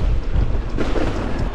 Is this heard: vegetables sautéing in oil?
no